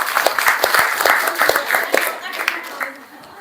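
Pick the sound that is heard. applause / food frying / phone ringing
applause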